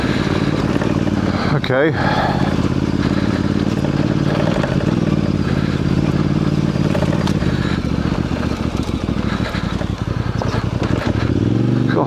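Voge DS625X adventure motorcycle ridden off-road down a lane, its engine a steady loud drone with clattering and scraping from the rough surface, a rider's voice speaking briefly over it.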